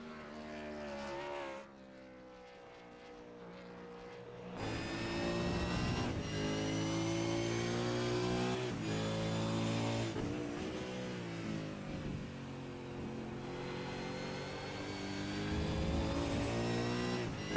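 An onboard race car engine in a sim racing Supercars game at Road America revs hard and shifts up through the gears repeatedly, rising whines broken by brief drops, loud and steady throughout with no voices.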